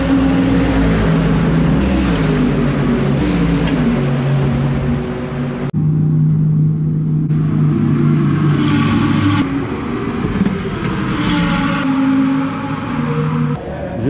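Mercedes-AMG GT3 Evo race car lapping a circuit during a stint, its engine roaring loud and close throughout, with pitch rising and falling through gear changes and one sharp drop partway through.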